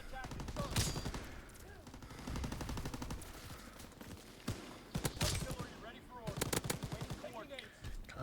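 The WAF rifle fires in Call of Duty: WW2 in loud, rapid automatic bursts of close gunshots with short pauses between them, mixed with other battle sounds and faint in-game voices.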